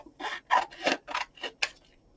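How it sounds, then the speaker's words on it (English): Scissors cut out a paper card tag in about six distinct, crisp snips spaced roughly evenly, close up and clear with no talking. "So I just take my scissors afterwards and I'll cut out"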